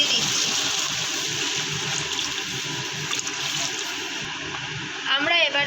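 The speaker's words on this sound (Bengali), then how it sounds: "জল দিয়ে দিচ্ছি।" Water pours into a curry cooking in a pan, a steady rushing splash that fills most of the moment and then gives way to a brief bubbling and a short burst of talk at the end.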